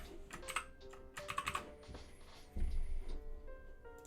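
Close, crisp clicking of fingers typing on a computer keyboard in short irregular bursts, quiet and alone in an office setting.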